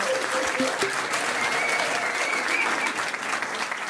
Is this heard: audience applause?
yes